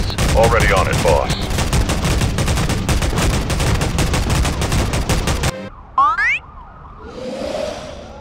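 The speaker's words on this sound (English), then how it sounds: "Fire the cannons!" Rapid, loud booming blasts fire in a dense volley, followed by whooshing and a short crashing impact, with a faint voice mixed in.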